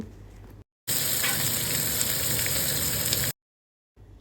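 Chopped onion, garlic, ginger and mixed vegetables sizzle loudly in a little hot oil in a pan, a steady dense frying hiss that cuts in abruptly and runs for a few seconds between quieter moments.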